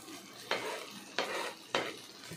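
Ginger garlic paste frying in a pan with mint and coriander, soft steady sizzle broken by three evenly spaced spoon scrapes, near and fairly quiet.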